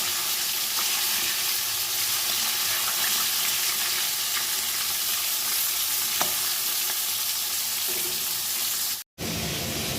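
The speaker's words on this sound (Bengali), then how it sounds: "চিকেনগুলো আমি একদম যেমন মাছ ভাজি তেমন আমি ভেজে ভেজে তুলে নেবো" Chicken pieces deep-fry one by one in hot oil, a steady loud sizzling, continuous and close, with a brief cut near the end.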